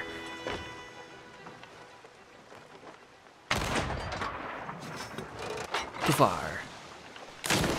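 Ship cannons fire in a Sea of Thieves pirate battle, a quiet creaking stretch giving way to a sudden loud blast and a string of booms and splashes, with people talking over it.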